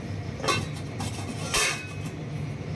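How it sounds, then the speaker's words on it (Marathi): Two clear metallic clanks of a lid being set onto a pot of moong dal, with a softer clink between them and quiet background hiss. "झाकण ठेवून"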